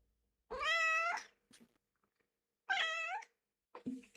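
An angry cat gives two loud, drawn-out meows a couple of seconds apart, close and clear against near silence, with small faint noises between them.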